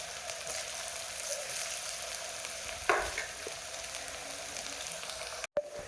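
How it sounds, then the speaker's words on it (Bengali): Potato pieces deep-frying in medium-hot oil, a quiet continuous sizzle with a brief louder crackle partway through and a short clatter near the end, no voices. "এবার মিডিয়াম গরম তেলে আলুগুলো একে একে দিয়ে ভালোভাবে ভেজে নিচ্ছি"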